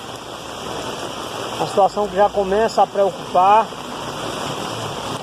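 Heavy rain falls steadily as a broad, continuous wash over a flooding city neighbourhood, with a man reporting in Portuguese over it.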